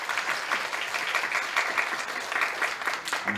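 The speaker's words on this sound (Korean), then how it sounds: "박수 한번 크게 쳐주시죠" Audience applause at a public forum talk on social and technological change: dense, steady clapping from a sizeable crowd that holds evenly for the whole stretch without pauses.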